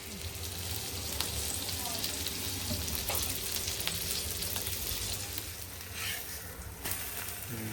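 Thick pomfret pieces fry in oil in a pan, giving a dense, continuous close sizzle with a few sharp ticks and spatters and a brief swell near the end.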